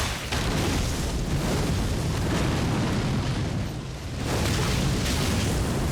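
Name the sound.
enemies' flamethrower attack in video game Elden Ring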